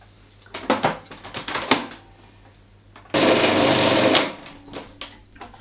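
A food processor blending vegan mock tuna pate with lemon juice gives one loud, steady whirring burst of about a second, set between softer clatters and handling knocks.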